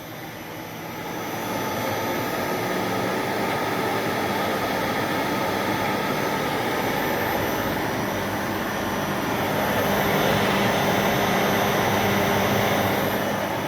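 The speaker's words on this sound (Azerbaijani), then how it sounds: "Mühərrikimiz 3000 devriyədə işləyir." An electric motor driven by an inverter spins at 3000 rpm, giving a steady, loud whirring drone with a faint high whine that holds constant, with no talk over it.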